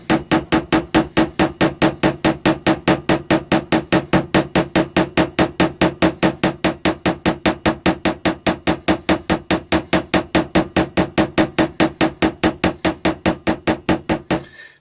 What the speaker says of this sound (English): you just take the round hammer